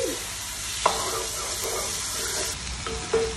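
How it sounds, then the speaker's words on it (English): Boneless, skinless chicken thighs, three pounds, brown in a pot for gumbo, giving a steady close sizzle with a wooden spoon scraping and stirring, and a couple of sharp knocks against the pot. "we got that chicken we're browning down"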